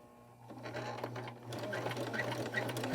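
A sewing machine hums and stitches at moderate volume as a doll's jean skirt is sewn, pausing briefly with the needle down to turn a corner, then running on with a low steady drone and soft clicks.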